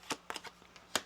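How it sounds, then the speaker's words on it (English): Playing cards are shuffled during a tarot reading, producing a few quick, faint riffling bursts spread over about a second, heard close with no talk. "One more shuffle here."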